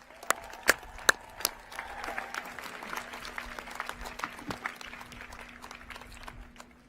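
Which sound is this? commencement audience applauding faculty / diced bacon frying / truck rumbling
commencement audience applauding faculty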